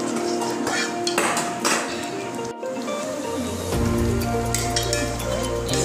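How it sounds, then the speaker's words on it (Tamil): A utensil stirs fig halwa with ghee in a pan over a low flame, making repeated close scraping clinks against the metal, followed by a steadier sizzling hum. "கொஞ்சம் சின்ன தீயில வச்சு கிளறிட்டுக்கலாம்"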